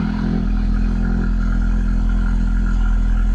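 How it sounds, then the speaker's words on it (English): A Ford Focus RS fitted with an exhaust valve bypass plug idles steadily, its low engine rumble holding an even, constant drone throughout with no revving and no voices. "the car has a nice consistent sound now"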